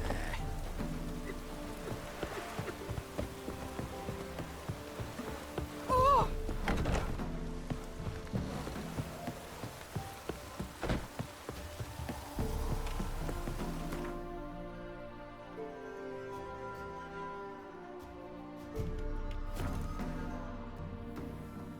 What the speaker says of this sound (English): it's drizzling, sir.